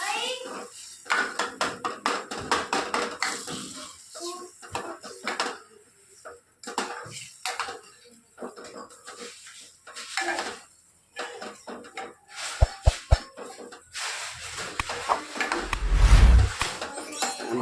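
Dal and tomatoes being stirred together in a metal pot, with scattered clinks and scrapes of a spoon against the pot between stretches of talk, louder clattering near the end.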